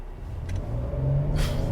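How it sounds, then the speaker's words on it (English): A 2023 Kia Telluride SX AWD engine drones steadily from inside the cabin, a low rumble rising slightly as it pulls, with a brief airy whoosh near the end. "you guys can hear the engine just a little bit more being pumped into the cabin"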